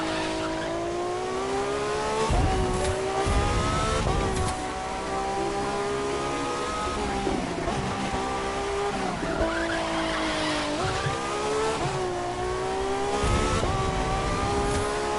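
A Ferrari in The Crew 2 racing game revs hard with a rising and falling engine whine, shifting gears repeatedly amid tire squeals and skids, loud and continuous throughout.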